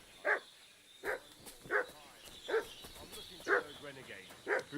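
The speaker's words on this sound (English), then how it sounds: "What's that dog making such a fuss about?" A dog barks in Kingdom Come: Deliverance II, medieval Bohemian village setting, six sharp woofs spaced about once every second at moderate distance, over a light ambient background.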